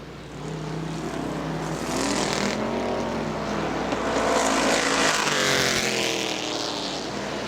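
Street stock race cars roar around Butler Motor Speedway, several engines blending into a loud, continuous drone that swells as cars pass close, with rising and falling pitch sweeps from passing vehicles.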